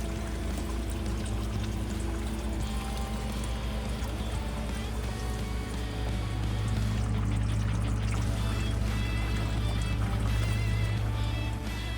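Coolant gushing steadily from a disconnected hose on a BMW 328i F30 during a thermostat replacement, a continuous close splashing pour that grows slightly heavier partway through, with no voice.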